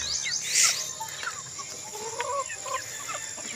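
Chickens on a small farm in the province cluck and chatter in short bursts, one louder squawk up front and softer calls scattered behind over a quiet outdoor background, with no talking.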